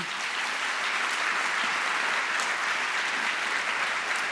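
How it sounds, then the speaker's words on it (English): A conference audience of museum professionals in Glasgow applauds, a sustained, even wash of many hands clapping, fairly close and steady for the full stretch with no talk over it. "So let's give them a round of applause right now."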